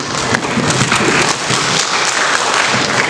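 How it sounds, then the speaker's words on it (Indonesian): An audience at a book workshop and launch gives a round of brisk, crackling applause, loud and dense throughout with no voices over it. "Tepuk tangan kepada itu"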